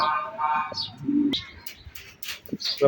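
Pigeons kept beside a rooftop garden give a few soft, low coos close by, mixed with brief chirps over a short stretch.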